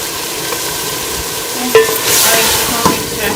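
Peas, potatoes and carrots being stirred in a cooking pot for vegetable biryani, a steady scraping stir with light sizzling underneath and a couple of sharper clinks near the end, close and fairly loud with no voices.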